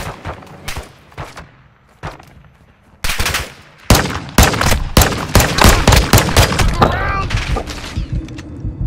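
Call of Duty Warzone gunfire crackles in scattered single shots, then turns into loud rapid volleys, with players talking over it.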